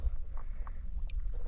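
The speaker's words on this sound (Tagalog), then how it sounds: "Bangka." A bangka out on the open sea near Cabalian Bank during a daytime spearfishing trip gives a steady low rumble mixed with wind noise, with faint splashes, and no voices.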